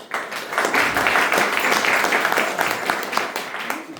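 An audience claps for a singer at a Diwali stage performance: a dense, steady burst of applause from many hands, loud and continuous for several seconds.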